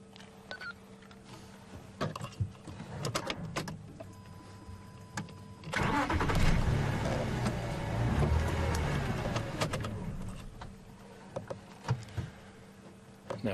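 A safari game-drive vehicle out in the bush revs its engine once in a loud low surge lasting a few seconds, then settles back to faint idling among quiet clicks and ambient sounds.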